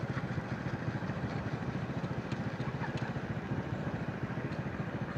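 A motorcycle engine idles steadily with an even, rapid low thrum as the bike is parked near a beach, with faint clatter on top.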